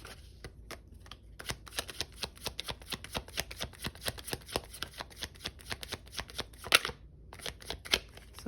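Tarot cards shuffled by hand in a quiet room, a quick steady run of soft papery riffles and slaps repeating for several seconds, close and fairly quiet.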